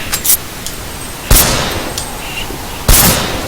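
Shotgun blasts from a zombie shooting video game's crossfire skill test: three loud, sharp shots spaced about a second apart, each with a lingering echoing tail over a steady game background hum.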